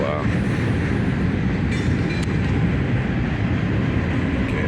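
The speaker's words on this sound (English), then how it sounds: "but I have to move away from the train." A train rumbles past nearby with a steady, heavy roar and faint rail clatter, loud and continuous throughout.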